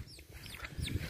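Soft clucking and chirping calls from turkeys inside a farm coop, close by and quiet, with a few overlapping warbling notes.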